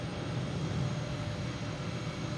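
Jet airliner taxiing at Boston Logan International Airport, a steady distant engine roar and rumble holding evenly throughout, moderately faint with no voices.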